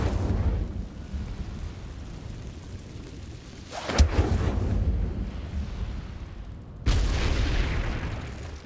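Incendio fire spell cast in the Hogwarts Legacy video game, a low rumbling whoosh broken by a sharp booming burst midway and a second surge of roaring flame later, fairly quiet with no speech.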